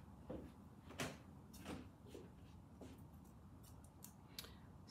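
Scissors snip off loose thread ends after a seam is stitched during sewing, giving several short, crisp cuts spread across a quiet room with no talking.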